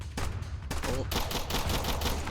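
Gunfire in the Roblox game Hypercam rattles in rapid loud bursts, dense repeated shots packed into a couple of seconds with no voices.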